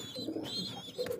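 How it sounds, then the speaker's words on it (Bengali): Pigeons coo close by in a loft, soft throaty calls rising and falling in a few overlapping phrases with faint chirps mixed in. "অসাধারণ কোয়ালিটি কবুতর"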